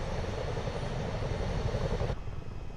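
Several Chinook helicopters landing in Microsoft Flight Simulator 2024 produce a loud, steady rotor and turbine roar that fills the scene, with the heavy chop continuing unbroken and the high whine dropping slightly near the end.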